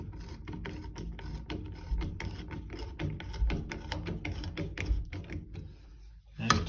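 A Fernco coupling clamp is tightened on a length of 2-inch pipe, giving a close, quick series of ratcheting clicks in a steady rhythm, ending with a louder clunk.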